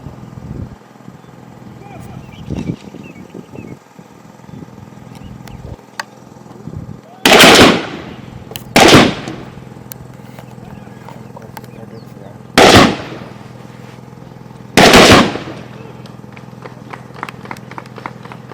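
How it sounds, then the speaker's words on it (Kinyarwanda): Police shooting drill with Type 97 short automatic rifles and pistols: four loud, sharp bursts of gunfire, spaced a few seconds apart, over a low murmur of background noise. "Barakoresha imbunda za short automatic rifle type 97 hamwe na pistol."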